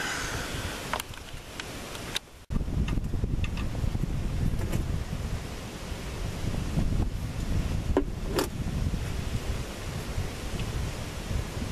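Wind gusting outdoors during a Flex oil change, heard as steady broadband rumble and buffeting against the microphone throughout, with a few brief clicks and rustles over it.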